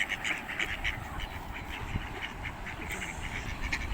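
A flock of pond ducks, including hungry ducklings, quacks steadily at a park, with repeated overlapping calls over a constant outdoor background and no speech.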